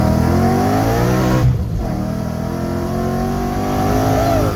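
A Ford Mustang S197 with an MT82 gearbox and Paxton supercharger on E85 accelerates hard through second gear near 6,000 RPM. The engine roars loudly and steadily, with a brief dip in pitch at a shift before it climbs again.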